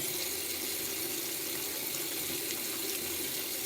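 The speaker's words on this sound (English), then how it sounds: "I gotta make sure I wash these hands" A tap runs steadily into a sink for hand washing, a continuous even rush of water close by with no talking.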